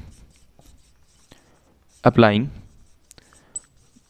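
Writing on a board during a physics lecture on semiconductors, a faint scratchy patter of marks near the start, then a short burst of someone speaking at mid-clip, followed by a few isolated clicks.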